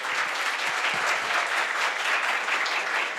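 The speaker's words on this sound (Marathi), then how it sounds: "सगळ्यांसाठी आपण जोरदार टाळ्या वाजवूया" An audience claps steadily for performers at a cultural festival show, a dense sustained round of applause with no voices.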